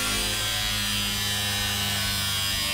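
Cutoff wheel cutting, a continuous high-pitched whining buzz, steady and close for a few seconds, with no voices.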